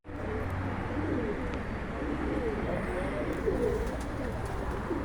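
Pigeons coo in low, rolling murmurs at a loft during a flock's flight session, a dense, continuous chorus of soft warbling calls over a steady outdoor background, with a voice faintly present.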